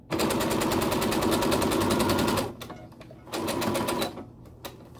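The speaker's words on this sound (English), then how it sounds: "I'm sewing just to the left of my first stitch" A sewing machine stitches a piped seam in fast, even rapid-fire bursts, close and loud for over two seconds, then pauses and runs again in a shorter burst before stopping.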